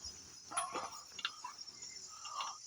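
A dog named Pappy gives faint, soft yips and whimpering barks, a few scattered short calls over a quiet background hiss.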